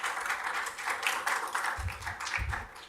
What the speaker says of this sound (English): Just a round of applause then for Martin.